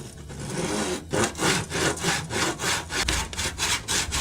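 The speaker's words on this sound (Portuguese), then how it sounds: "Agora eu vou pegar a serra para serrar." Hand saw cutting through wood while a wooden ladder is being built, a steady rhythm of about a dozen rasping back-and-forth strokes, close and loud with no talking.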